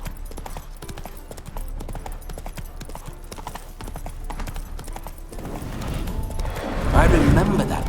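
Horse hooves clip-clop steadily at a walking pace in The Witcher video game, with background music and game ambience, swelling louder toward the end.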